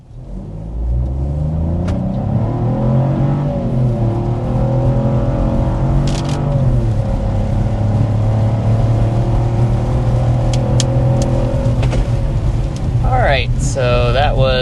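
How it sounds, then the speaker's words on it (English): A 2026 Chevy Trax makes a hard acceleration run to 60 mph, its engine droning loud and steady from inside the cabin as the pitch climbs through the gears, with a short voice at the end. "let's go ahead and start with a hard acceleration"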